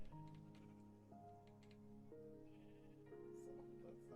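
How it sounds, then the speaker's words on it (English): Sheep in the Minecraft video game bleat repeatedly, a series of stacked, overlapping electronic-sounding baas in close succession over a soft background, fairly quiet overall. "then this whole room's gonna be rainbow sheep and really loud"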